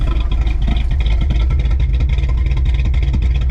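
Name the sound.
classic Ford F100 engine running rich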